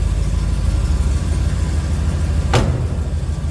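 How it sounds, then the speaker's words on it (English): A 1970 Chevrolet Chevelle SS 396 sits with its engine idling in a steady low rumble, and a single sharp car door slam lands near the end, close and solid. "Door closes nicely."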